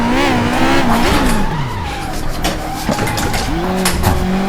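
A Camaro spins out with loud, continuous tire squeal and skidding over a revving engine, the squeal sliding up and down in pitch as the car loses grip, with faint talk beneath.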